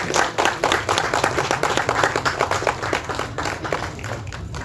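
An audience claps at the Karungkulaththan film audio launch, giving close, crisp applause with dense individual claps that keeps a steady pace for a few seconds before easing slightly.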